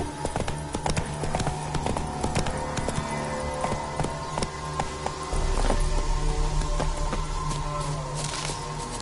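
Hoofbeats of Roach, the horse in The Witcher 3 game, galloping in a rapid, steady clip-clop over game music and ambience, growing heavier partway through.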